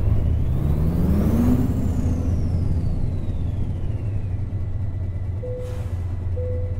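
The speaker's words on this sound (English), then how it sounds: "Turbo whistle on, this is insane." A heavy truck in Euro Truck Simulator runs with a fitted turbo whistle, a thin tone that climbs and then slowly falls over a steady engine drone, followed by a short hiss of air near the end.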